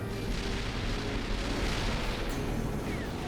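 Plasma weapons firing in the space combat game Gratuitous Space Battles, a dense continuous wash of booming blasts and roaring explosions that fills the whole stretch at steady loudness.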